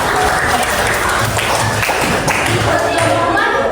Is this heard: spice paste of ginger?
no